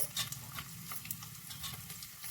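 Chicken pieces fry in a pan for breakfast chicken noodles, giving a soft, low sizzle with light stirring and tapping close by.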